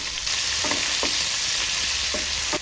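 Chopped onion, garlic, green chilli and curry leaves fry in a pan with a loud, constant close-up sizzle, and a few short stirring scrapes punctuate it.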